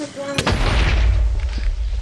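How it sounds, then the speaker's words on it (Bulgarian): A creeper explodes in the video game Minecraft, a single sudden deep boom that rumbles out over about a second and a half, loud and close, following a brief sharp onset. "Крипър експлодира и върна зомби."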